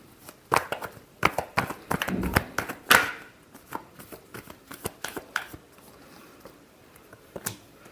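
Tarot cards are shuffled by hand in a quick series of crisp riffling slaps and flutters, close and fairly loud, thinning to scattered taps toward the end with no voice.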